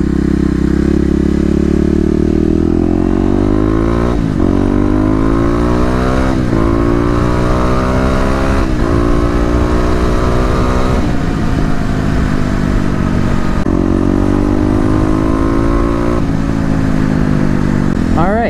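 A Kawasaki KLX250 motorcycle accelerates hard out of a turn, its engine climbing steadily through the gears with rising pitch and brief dips at each shift, loud and close throughout with wind noise.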